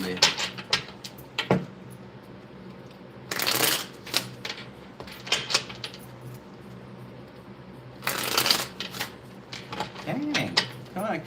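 Tarot cards shuffled by hand in repeated bursts, two long riffling runs and scattered crisp taps and slaps of the deck, close and clear with no talking.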